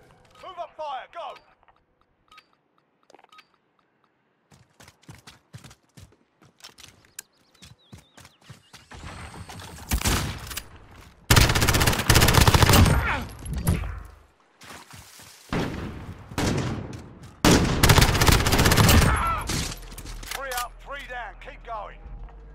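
Gunfire in the video game Call of Duty Modern Warfare comes in loud, dense bursts through the second half, following sparse clicks and footsteps, with in-game voices calling out commands.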